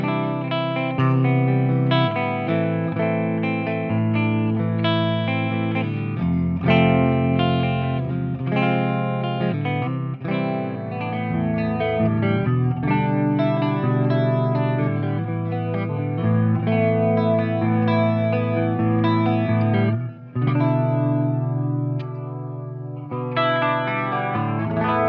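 Clean electric guitar tone through an EVH 5150 50-watt EL34 amp, shimmering with chorus and echo effects, as chords and arpeggiated lines flow continuously and close up with no voices, briefly dipping near the end before resuming.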